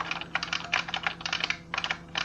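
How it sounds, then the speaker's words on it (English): Rapid clacky typing on an IBM Model M computer keyboard, with loud, close buckling-spring keystrokes coming in quick bursts separated by short pauses. "I can type on a standard IBM Model M keyboard at, I think it was at about 110 words per minute"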